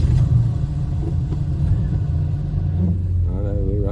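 An old Dodge VK ute with a Pacer engine idles with a steady low rumble, a voice speaking briefly over it near the end.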